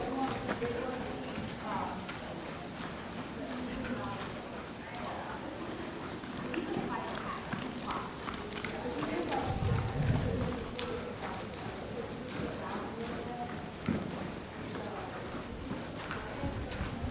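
A horse canters during a riding lesson, its hoofbeats a muffled, uneven thudding that rises and falls at a distance, with birds cooing nearby and a voice speaking faintly in the background.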